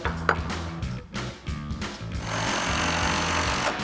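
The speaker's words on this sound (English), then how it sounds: "Use our 5mm Allen socket to run this in." A 5mm Allen socket on a power driver runs a bolt into a bracket of an aluminum roof rack on a Jeep Wrangler JK, giving short whirring bursts and then a longer sustained buzzing drive, loud and close.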